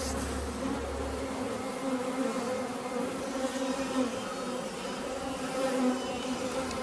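Dense, steady buzzing of many honey bees swarming close by, a continuous droning hum with no voices.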